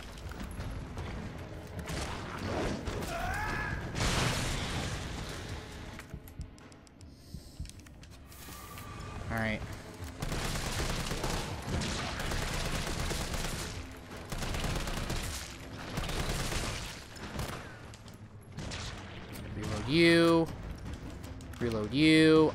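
Rapid gunfire from Resident Evil 3 Remake, loud and nearly continuous bursts of shots with mechanical clicks and reloads layered over dense game noise, while a player talks over it.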